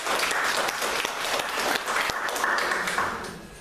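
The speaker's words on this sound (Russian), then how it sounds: "Поэтому заслуженные аплодисменты" A crowd claps steadily in warm, sustained applause that fades slightly toward the end.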